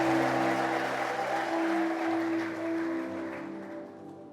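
Church congregation ululating and clapping during a sermon at New Creation Church, sustained high trilling calls over applause, fading gradually toward the end.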